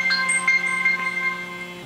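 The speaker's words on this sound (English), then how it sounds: "Oh, my cell phone. Text message." A cell phone text message alert plays as a short sequence of bright electronic beeps over a steady hum, close and fairly loud, with no talking.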